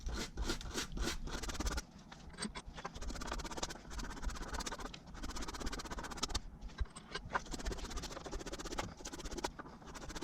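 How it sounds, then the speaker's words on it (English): Rapid, harsh scratching and scraping of a wire wheel spinning on a drill against metal bolts from a Chevy Suburban 350 water pump, continuous with short bursts and pauses, close by. "If you have a wire wheel, put it on a drill, even better."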